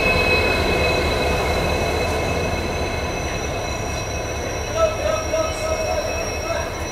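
A Shivamogga–Mysuru unreserved passenger train, led by a WDP 4D diesel locomotive and nearing Hassan station, rolls with a steady loud rumble, high sustained wheel squeal, and a brief clatter near the end.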